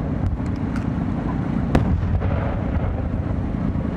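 Fireworks at the Omagari fireworks festival, heard as a dense, steady rumble of distant bursts with a few sharper pops standing out, continuous and loud throughout.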